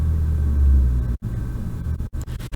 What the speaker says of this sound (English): That's the sound of a loud car.